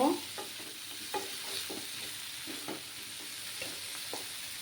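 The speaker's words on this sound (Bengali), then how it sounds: "এবার আমি আলু আর বেগুনগুলো দিয়ে দেব। দিয়ে ভালোভাবে নাড়াচাড়া করে নেব।" Potatoes and brinjal fry with dry fish in a pan, a low steady sizzle with a rhythmic series of spoon scrapes and clinks as the mixture is stirred.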